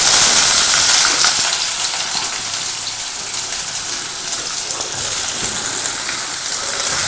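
Sliced onion hisses and sizzles in hot ghee in a pan for ghee rice, a constant close crackling fry that swells and eases slightly, with no talking.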